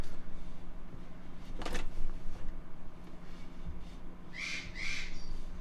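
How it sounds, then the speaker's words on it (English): A bird calls twice in quick succession near the end, a pair of short, clear, high notes over a steady low background hum, with no speech. "Do you hear the bird in the background?"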